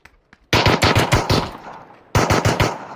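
Pistol gunfire in a video game rings out in two rapid bursts of loud, close shots, about six in the first and five in the second, with a short lull between them.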